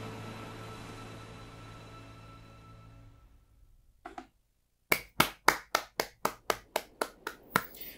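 A sustained tone fades out, then after a short pause a series of about a dozen sharp claps rings out in an even rhythm, from a cutscene in the video game Genshin Impact.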